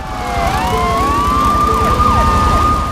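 Police car siren in Grand Theft Auto 3, wailing and sweeping in pitch continuously over a steady low engine rumble, loud and close, with several overlapping siren tones.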